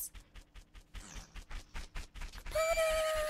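Epona's hooves clop in a fast, even trotting rhythm in The Legend of Zelda: Majora's Mask, ending in a loud, bright neigh from the horse.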